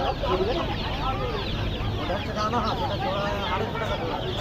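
Native desi chickens cluck and call steadily at a busy Bengali bazaar, with a dense din of market chatter and voices mixed in throughout.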